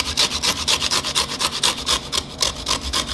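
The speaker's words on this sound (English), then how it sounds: "So I'm gonna first zest this lemon" A lemon grated against a handheld zester in a kitchen, a rapid, regular back-and-forth rasping of about a dozen even strokes, close and fairly loud with nothing else heard.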